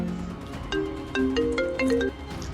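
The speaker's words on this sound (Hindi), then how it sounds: "अंकिता का फोन" A phone ringtone plays for an incoming call: a bright, repeating electronic melody of short tonal notes, fairly loud and close, with no talking over it.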